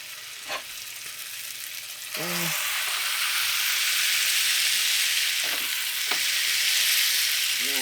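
A burger patty, smashed over mustard, fries on a hot griddle with a loud, steady sizzle that swells after a couple of seconds. A few brief scrapes and clinks of a utensil sound over it.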